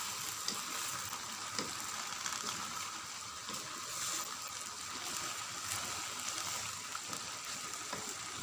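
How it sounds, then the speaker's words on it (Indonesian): Cabbage and mustard greens being stirred into frying capcay, a steady close sizzle with soft scraping stir sounds throughout, no talking. "masukkan sawi putih tadi, sawi hijau, aduk hingga merata."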